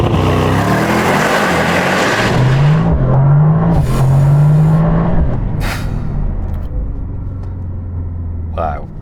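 A 1000 horsepower hybrid performance car launching from standstill, a loud, close engine roar with a rising tone that climbs in surges over a few seconds, then settles to a lower rumble as the run eases off.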